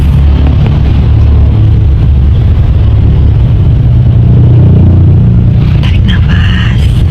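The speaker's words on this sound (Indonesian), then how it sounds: "Macet guys." Car engines idle and rumble in a traffic jam, a loud, steady low drone with slight revving swells, and faint chatter from voices joins in toward the end.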